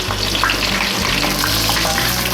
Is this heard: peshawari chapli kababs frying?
yes